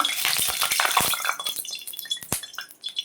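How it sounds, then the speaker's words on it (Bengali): Rohu fish coated in salt and turmeric frying in hot mustard oil: a dense, crackling sizzle with sharp pops and spatters, close and loud, fading slightly toward the end. "এখন আমি নুন হলুদ মাখানো মাছগুলো ভেজে নিচ্ছি"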